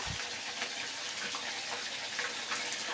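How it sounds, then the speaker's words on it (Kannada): Ginger garlic paste frying in hot oil for fried rice, heard as a steady crackling sizzle with a soft bump at the start, moderately loud and continuous with no voices. "ಶುಂಠಿ ಬೆಳ್ಳುಳ್ಳಿ ಪೇಸ್ಟ್ ಹಾಕಿದ್ದೀನಿ ನೋಡಿ ಇದೆರಡನ್ನು ಹಾಕಿ ಸ್ವಲ್ಪ ಅದು ಬಾಡಿಸ್ಕೊಬೇಕು"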